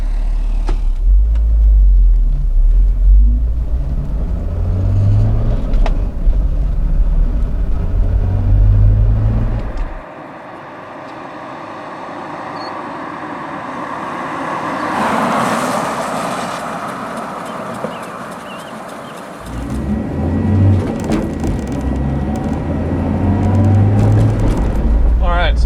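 Road and engine rumble fill the cabin of a 1979 Volvo 245 DL with a four-speed overdrive as it cruises, with low engine tones rising through gears, a quieter stretch midway, and someone talking over it.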